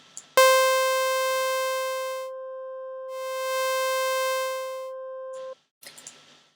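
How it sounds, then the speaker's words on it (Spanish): A bright, steady synth tone from Massive holds for about five seconds, its wavetable morphing from hollow, square-like to buzzier, sawtooth-like, then cuts off abruptly. "esta es una tabla de onda que se mueve de una forma de onda cuadrada a una forma de onda de diente de sierra"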